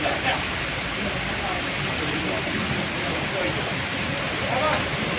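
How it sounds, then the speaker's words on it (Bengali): Heavy rain pours down in a dense, steady roar that never lets up. "দেখুন কি পরিমাণ মুষলধারে বৃষ্টি হচ্ছে"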